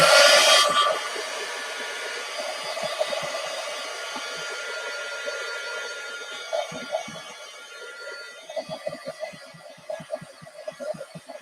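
A hair dryer blows steadily up close as gesso on a painting is dried, a continuous whooshing whine with a loud start that eases back, broken by faint handling knocks toward the end.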